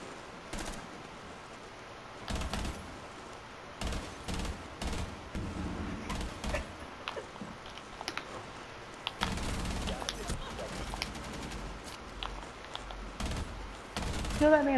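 Gunfire in a shooter video game, with scattered bursts and single shots at moderate level, some close and some distant, spread across the stretch amid quiet game ambience.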